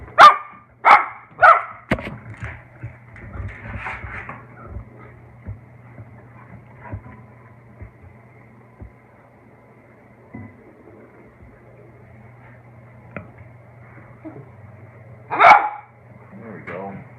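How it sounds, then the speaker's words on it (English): A dog barks several times in a quick burst near the start, then a long lull with faint background hum, and one more loud bark near the end; a person is also speaking in the background. "Why are you barking?"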